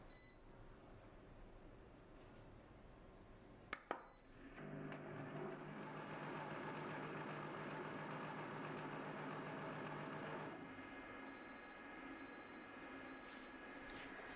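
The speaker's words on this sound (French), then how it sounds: "Le mélange est prêt lorsque nous entendons les 3 bips sonores." A Compact Cook Elite multicooker whirs steadily for several seconds mixing quiche filling at speed 3, stops, and then three short electronic beeps sound in quick succession.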